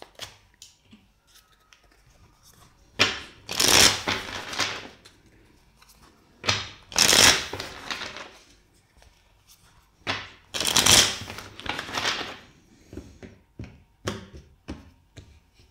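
Tarot cards are shuffled by hand three times. Each pass is a crisp riffling flutter lasting about a second, close and clear, with soft taps and handling noises between the passes.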